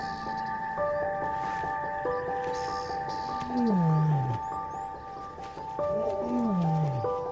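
A wild lion of a pride in the Luangwa Valley roars in the still morning air, with two deep, moaning roars at moderate distance over a faint background of birdsong.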